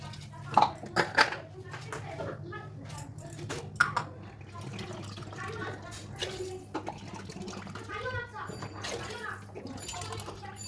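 Water splashes and pours into a metal pot of rice for pulao, with clanking of the pot and scattered drips, while someone speaks over the pouring.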